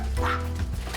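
Dogs bark and yip inside a house crowded with rescued dogs, a short burst of close barking in a living room.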